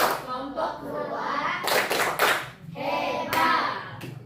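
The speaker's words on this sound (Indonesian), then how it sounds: "Tepuk tangan dulu dong buat kelompok 2." A class of students claps in short bursts and rhythmic patterns for a group, with children's voices chanting along between the claps, close and lively in a classroom.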